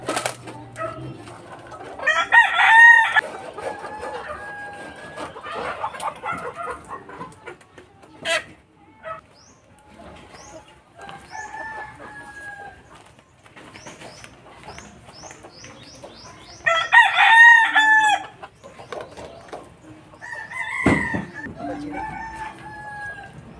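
Roosters crow loudly twice amid steady clucking from caged chickens being shipped by cargo to Ormoc and Albuera, with the calls coming close and clear over a faint background murmur.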